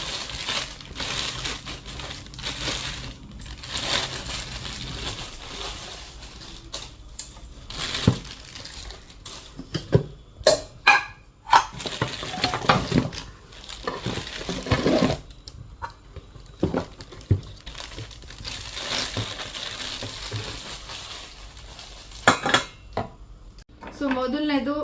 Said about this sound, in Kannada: ಸೊ ಮೊದಲನೇದು ಇದು ಫ್ರೈಯಿಂಗ್ ಪ್ಯಾನ್.